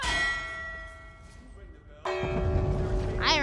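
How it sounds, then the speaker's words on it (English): A bell struck in the Elder Scrolls Online game rings out with a bright metallic clang that decays slowly, then a second loud strike follows and rings on, with faint background game ambience. "I rang the bell."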